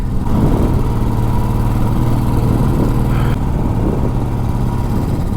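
A motorcycle rides a steep mountain road toward Badrinath, its engine a loud, steady, close drone throughout, mixed with rushing wind and no talking.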